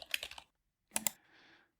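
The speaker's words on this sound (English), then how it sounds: "his hooves tapping along the keyboard with incredible speed and facility" Rapid keystrokes clatter on a computer keyboard in two short bursts separated by a brief pause, close and crisp with no talking.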